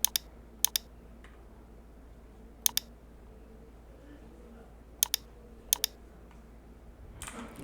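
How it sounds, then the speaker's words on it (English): Mouse clicks and a few brief keyboard keystroke bursts come in sharp, isolated pairs over a quiet room hum while searching on a PC, close and crisp, ending with a short rustle. "you can just click on your search box and type here DCSP and open the app"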